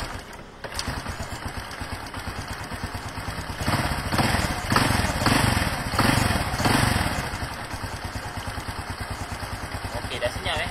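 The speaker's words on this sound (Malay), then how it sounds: "Okay, sekarang kita start motor ni. Kita dengar dia punya bunyi okey." Honda Wave 125 motorcycle engine being started and left idling after reassembly, a steady close mechanical putter with a brief rise in revs midway before settling back to idle.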